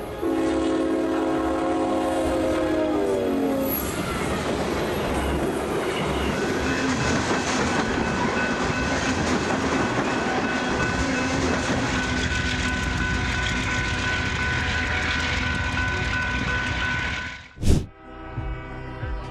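A train rushes past at high speed with a sustained roar and rattle of cars, a horn sounding at the start and a sharp clank near the end.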